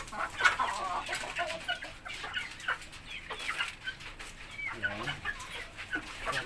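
Chickens in a backyard coop clucking and squawking at feeding time, with scattered bird calls and light rustling, moderately close with no talking.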